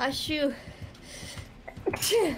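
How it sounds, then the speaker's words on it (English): A single sharp sneeze bursts out near the end, loud and close, during a gaming stream, with a person's brief speech and other voices before it. "That was my sneeze announcement."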